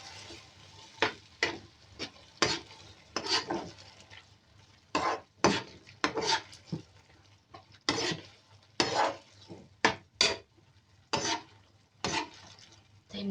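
A utensil stirs creamy penne pasta sauce in a pan, making repeated soft scraping and sloshing strokes at an irregular rhythm over a quiet background.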